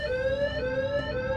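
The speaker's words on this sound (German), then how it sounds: "Oh nein, das war ein versteckter Alarm." Hidden alarm in the horror video game Evil Nun: a loud, steady electronic siren with a repeating two-tone pulse roughly every half second, sounding continuously on its own with no talk.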